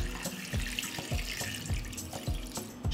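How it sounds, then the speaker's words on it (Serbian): Tap water running steadily into a cooking pot lined with a cloth on the bottom, filled to the height of jar lids for pasteurizing, with splashing and irregular pulses throughout. "Isipat ću vodu u šerpu do visine poklopca"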